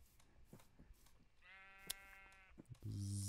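A sheep in Minecraft gives a single clear bleat, about a second long, against soft footsteps and game sounds. A louder electronic game tone follows right after.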